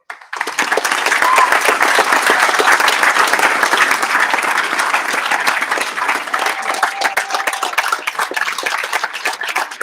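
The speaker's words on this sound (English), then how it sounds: "I could not let this day pass without a round of applause for Jim Moring, Len Bone, and Cheryl Bissone" Sustained applause from an audience at a college closing day ceremony, loud and continuous dense clapping lasting the full span and tapering slightly toward the end.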